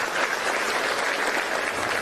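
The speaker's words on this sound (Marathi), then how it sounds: "जोरदार टाळ्या वाजवा एकदा" A crowd at a women's rally in Sindhudurg claps loudly and continuously, a dense, even burst of applause with no talk over it.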